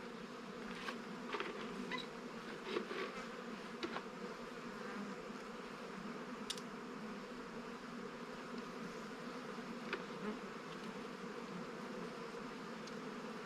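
A honeybee colony hums with a steady, dense buzz at an open hive in an apiary, with occasional louder passes of single bees close by and no talking.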